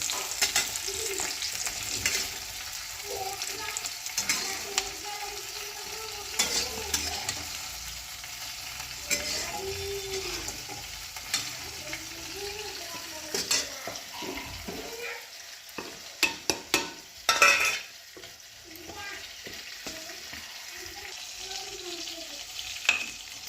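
Onion sizzles and fries in hot oil in a pan, a continuous crackling hiss broken by repeated scraping stirs from a utensil, close up, with a few sharper clatters partway through and no talking.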